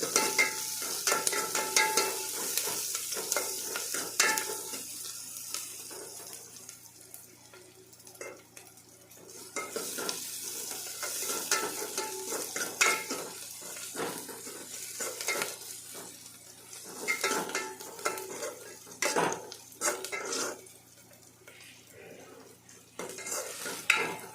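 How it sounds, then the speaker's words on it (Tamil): Onion, curry leaves and mustard seeds sauté in a pan for a Tamil greens kuzhambu, with steady frying sizzle, repeated spoon stirring and scraping against the pan, and occasional utensil clinks throughout, close and without talk. "வெங்காயம் கருவேப்பிலை கடுகு இதெல்லாம் சேர்த்துக்கணும் இன்னும் கொஞ்சம் நேரம் வதங்கணும்"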